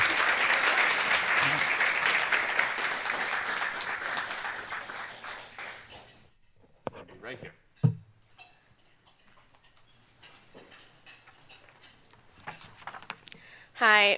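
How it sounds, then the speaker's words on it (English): An audience applauds an essay contest winner at a free speech awards event, a dense, loud burst of clapping that fades out after about six seconds, followed by quiet room noise with a few scattered claps and movement sounds. "Please give her a round of applause."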